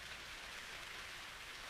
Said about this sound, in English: There is only the soft sound of the rain